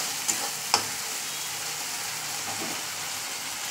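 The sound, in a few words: stirring cumin masala frying in pan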